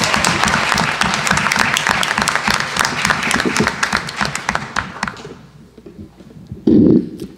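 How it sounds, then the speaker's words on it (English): Audience applause at a school board meeting, a loud, dense burst of many people clapping that tapers off after about five seconds, followed by a brief low thump. "Everybody, please give Lindsay and Carol another round of applause."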